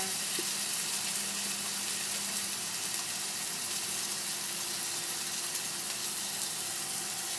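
Silver cod pan-frying with herbs in a Korean La Rose pot gives off a steady, close hiss of sizzling oil that stays even throughout, with no talk.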